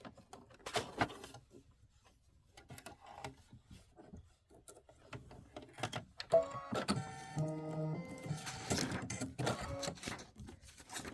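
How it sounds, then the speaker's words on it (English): A Kimberbell embroidery machine stitches a pink heart design in quick, mechanical needle pulses with intermittent whirring runs, close and fairly quiet, growing busier in the second half. "And now it's going to do that pretty stitching."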